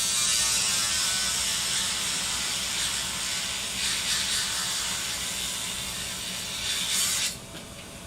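Close up, a Dremel rotary tool shears off a plastic part of a Voron 3D printer build, holding a steady, high-pitched grinding whine with a slight waver for about seven seconds before it cuts out abruptly.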